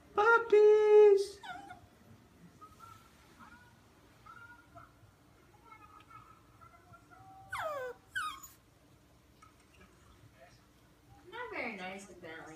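Puppies whimper and whine in high, thin cries, loud at first and then softer and drawn out, with a few more yelps near the end.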